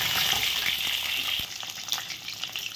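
Eggs fry in a pan with turmeric and salt for a light egg curry, giving a steady, close, crackling sizzle that eases slightly halfway through.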